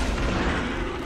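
Blaster fire in Lego Star Wars: The Skywalker Saga, a dense, continuous barrage of loud shots and booms layered over game noise, with no clear gaps between bursts.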